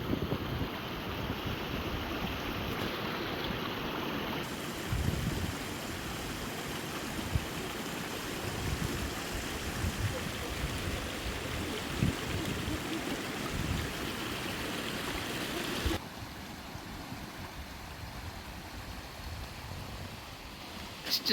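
A river flows through a winding, rocky Scottish Highlands valley, a steady broadband rush of water mixed with outdoor wind that stays fairly constant and then softens slightly near the end.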